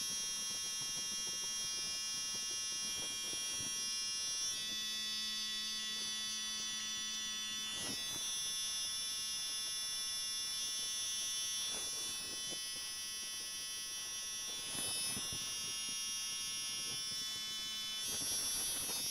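Electric hair clippers buzz steadily throughout a self-cut skin fade, a close, continuous motorized drone with slight shifts in pitch and brief bursts as the blade moves through hair at the side of the head.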